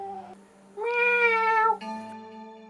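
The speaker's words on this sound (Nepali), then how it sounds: "हाम्रो घरमा ठुलो ढाडे बिरालो आज छ क्या" A cat meows indoors at night, a close, clear series of drawn-out tonal cries, one longer and louder in the middle, with a faint steady hum underneath.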